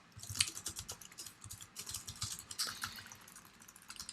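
Quick, uneven bursts of computer keyboard typing, close and crisp, with clustered keystrokes and short pauses between them, with no voices.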